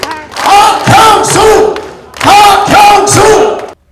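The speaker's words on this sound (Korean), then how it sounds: "박형수를 연호하겠습니다." Loud, close crowd at a congressman's report meeting in Yeongju chanting his three-syllable name in unison twice, each chant a rhythmic burst of shouted syllables with a short pause between the two rounds.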